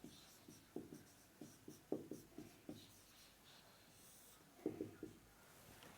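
A pen scratches across paper in a run of short, close strokes with brief pauses, then a final burst of quick marks; the strokes come at a steady pace and no one speaks.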